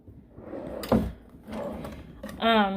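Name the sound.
drawer opening or closing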